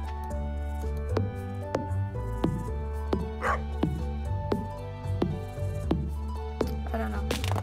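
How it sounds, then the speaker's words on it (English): Repeated dog barks from a dog in the farming video game Stardew Valley, sharp and fairly close, sounding about a dozen times in an irregular rhythm over steady game music. "What's my dog barking about?"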